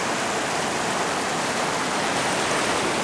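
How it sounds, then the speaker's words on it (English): At Cocoa Beach, big ocean waves break, making a loud, unbroken roar of surf that holds at a steady level throughout, with no voices over it. "Quite nice big waves out there."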